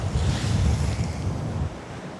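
Rough sea water surges and splashes against a sea wall at Folkestone Warren, a loud continuous roar of surf mixed with heavy wind buffeting the microphone.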